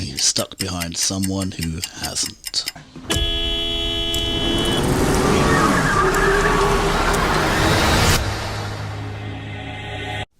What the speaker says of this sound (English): if you factor in the excessive horn blowing